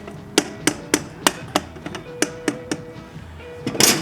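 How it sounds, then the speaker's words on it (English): A Triumph Street Scrambler exhaust merge collector is tapped snugly into place, about a dozen sharp metallic knocks at an uneven, quick rhythm, close and loud, ending in a brief cluster of taps. "You always want them to be snug, so you just kind of tap them in."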